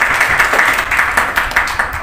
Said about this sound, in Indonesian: Tepuk tangan untuk Tobias.